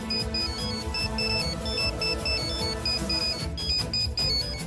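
A mobile phone ringtone plays as a steady, bright repeating melody over a dramatic music bed, loud and continuous throughout.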